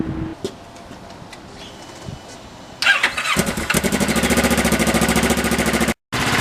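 Engine of a 2009 Kawasaki Ninja 650R motorcycle cranking and catching, then idling steadily on choke close by with a fast, even pulse, after quiet outdoor ambience and birds.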